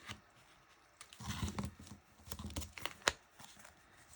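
Washi tape is trimmed off the back of a card panel, giving soft close snips, crinkles and small paper rustles in an irregular patter, quiet and without talking.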